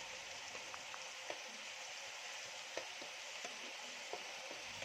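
Vegetables for chicken fried rice frying in a pan, a steady, fairly faint hiss of sizzling oil with a few light ticks from stirring, no voices.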